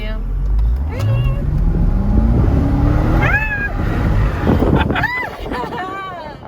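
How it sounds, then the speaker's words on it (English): Supercharged Corvette convertible accelerating hard, a loud engine note climbing steadily in pitch through the gears with wind rush, and voices shouting excitedly over it near the end. "We're gonna do one more acceleration run because it's so much fun in this car."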